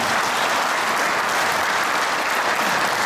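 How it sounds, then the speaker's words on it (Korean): Dense, loud, continuous applause from a large audience at an alumni reunion concert for a soprano, a steady wash of many hands clapping at once with no letup. "이런 박수를 제가 들어본 적이 없습니다."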